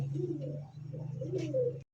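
A racer pigeon coos close by, giving a soft, low, throaty cooing in two short phrases over about two seconds before stopping.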